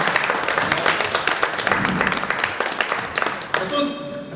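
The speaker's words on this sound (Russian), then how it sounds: "Пожалуйста, под ваши аплодисменты." An audience at an international art exhibition claps in a dense, sustained patter of many hands, fairly close and even throughout before thinning out at the end.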